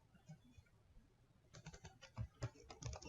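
Typing on a computer keyboard, a soft patter of quiet key clicks that starts after a pause and continues in a quick, uneven run of taps, close and faint.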